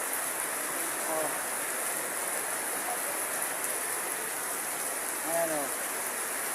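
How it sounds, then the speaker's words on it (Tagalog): Heavy rain pours down outdoors as a steady, hissing wash of drops, with brief voices and a faint tonal sound rising over it. "Sobrang lakas ang ulan din eh."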